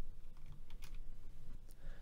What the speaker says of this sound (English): use the Insert button on the keyboard